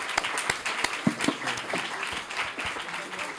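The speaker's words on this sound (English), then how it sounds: "A round of applause for" Applause breaks out from the audience at a NATO-EU roundtable, with scattered and fairly close individual claps blending into a moderate, steady patter.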